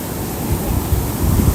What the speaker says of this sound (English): Wow, look at these waves.